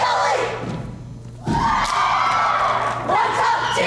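Crowd at a 1997 competitive cheerleading final cheers and shouts for a cheer squad, loud and sustained with a brief dip before surging again, with announcer talk mixed in.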